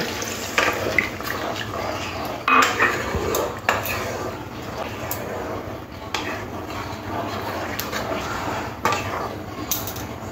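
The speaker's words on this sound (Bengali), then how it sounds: "এবারে জল দিয়ে দেব।" Water is poured into a pan while cooking potol (pointed gourd) curry with prawn paste, splashing amid repeated clatters of utensils against the pan, close and fairly loud.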